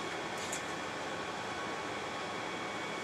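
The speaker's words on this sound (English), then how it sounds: "the noise you hear in the background" A workshop air conditioner runs in a hot South Louisiana shop in May, giving a steady, even broadband hum and hiss that holds constant throughout with no talk over it.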